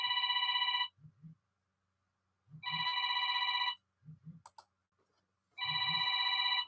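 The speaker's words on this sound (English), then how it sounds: "We have a phone call." Telephone ringing with an incoming call, three bright electronic ring bursts spaced evenly with quiet gaps, each followed by soft low thuds, moderately close with no talking.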